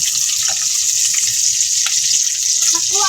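Sliced onions dropped into hot oil for pinakbet, a loud continuous close sizzle and hiss filling the short stretch, with faint clatter underneath.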